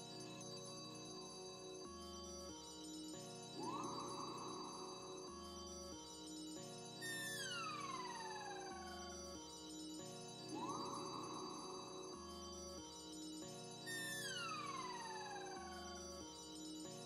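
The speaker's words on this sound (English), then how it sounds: "Phone call." A phone rings with an incoming call, a repeating synthetic ringtone melody with rising and falling tones that cycles several times, loud and close, with no talking over it.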